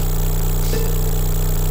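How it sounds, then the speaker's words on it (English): A kart's engine hums in a steady, buzzing drone in the SRB2Kart racing game, with a rhythmic pulsing pattern and a brief tonal effect passing over it midway. "Engine noise."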